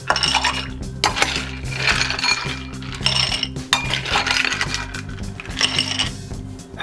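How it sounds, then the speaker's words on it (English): Ice goes into a cocktail glass with bright clinks and rattles that come in several close, loud bursts, each followed by a brief lull. "Next, we're going to add some ice."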